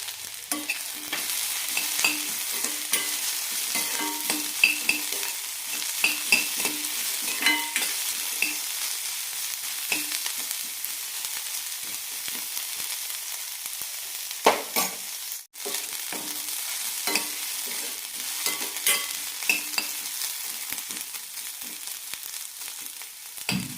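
Gooseberries frying in a pan for chutney, a continuous loud sizzle with frequent scraping stirs close up, steady throughout with no talking.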